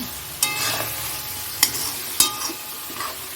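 Spice masala frying in a pan for a chicken curry, a close sizzle broken by several sharp spatula scrapes and knocks against the pan, no voices.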